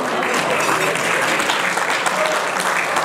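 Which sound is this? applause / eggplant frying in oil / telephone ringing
applause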